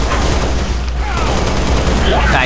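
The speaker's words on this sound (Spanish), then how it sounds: "Ay, ¿qué fue eso? ¿Qué disparos?" Rapid bursts of gunfire in Halo: Reach crackle throughout, dense and continuous, with a low rumbling bed and some whooshing effects near the end.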